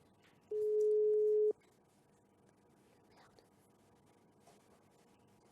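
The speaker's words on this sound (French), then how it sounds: "On entend le téléphone sonner." A telephone ring on a line, heard as one steady electronic tone lasting about a second, then a quiet pause before the next ring begins at the very end.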